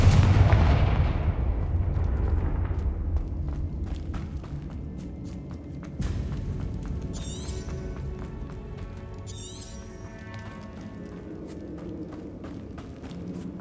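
In the video game Hogwarts Legacy, a Confringo blasting spell booms loudly at the start and decays into a rumbling tail, followed by further impacts and faint magical zings.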